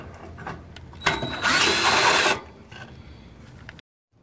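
A power tool spins out 8 mm bolts from the bottom air cover of a 3.5L Ford F150, with a loud whirring burst of about a second after brief ratcheting sounds and light clatter.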